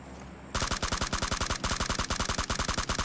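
Rapid automatic gunfire in the PUBG Mobile shooter game, a sustained burst of evenly spaced loud shots starting abruptly after a brief quiet moment, close and without speech.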